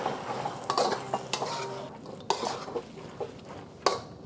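Beef stir fry with green onions and sesame oil is stirred in a pan just off the heat, a utensil scraping and clinking against the metal in a series of irregular knocks, with only a faint sizzle underneath.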